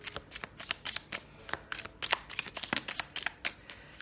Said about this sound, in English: I wanted to shuffle them, but they're just coming out like that